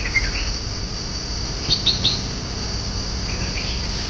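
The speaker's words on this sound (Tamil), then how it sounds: "பட் இங்கே குருவி சத்தமெல்லாம் அருமையாக இருக்குது." Birds chirp faintly among the trees at a hill station in the Nilgiri Biosphere near Anaikatti, Coimbatore, with a few short high calls over a steady insect and cricket drone.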